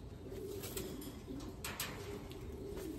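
A racing pigeon coos softly in a low, repeated rolling call, close by and faint, with no talking.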